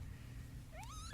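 A newborn kitten only a few hours old gives one thin, high rising mew at the end, quiet and close, over a soft low background hum.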